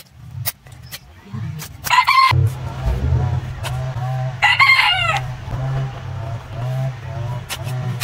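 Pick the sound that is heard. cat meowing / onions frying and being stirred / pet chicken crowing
pet chicken crowing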